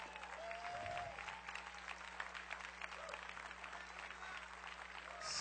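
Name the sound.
congregation applauding in church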